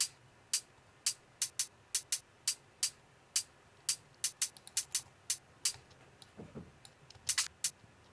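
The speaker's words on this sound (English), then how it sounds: "a hat cut out of the break, and this hat sounds like this." A hi-hat sample cut from a drum break, played as a string of short, crisp, bright ticks in a loose, uneven rhythm, close and alone.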